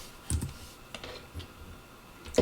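A short run of computer keyboard key presses while entering a number into a simulation program's settings field, close and clear, a few separate clicks spread over two seconds with no voices.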